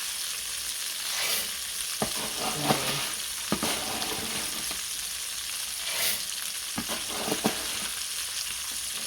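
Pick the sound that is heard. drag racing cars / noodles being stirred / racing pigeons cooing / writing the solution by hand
noodles being stirred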